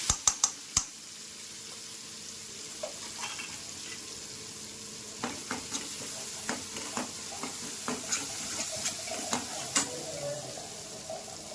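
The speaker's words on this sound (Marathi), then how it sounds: "कढीपत्ता टाकून घेऊ." Curry leaves and spice paste hit hot oil for a bitter gourd curry, sizzling steadily while sharp pops and crackles burst out irregularly, loudest at the start and then scattered throughout.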